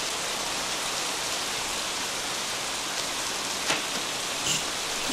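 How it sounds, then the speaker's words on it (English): Steady rain falls in a dense, even hiss, with a couple of faint drips or knocks standing out briefly. "I love the sound of rain."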